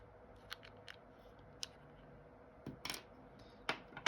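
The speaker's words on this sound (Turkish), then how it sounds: "Burayı bir bıçak yardımıyla kaldırabilirsiniz." A knife blade pries the plastic cover off a Nieve Evzoom car key fob. Faint, sparse clicks and small snaps sound up close in a quiet room, with a short cluster of cracks near the end.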